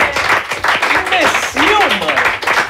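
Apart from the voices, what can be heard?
audience clapping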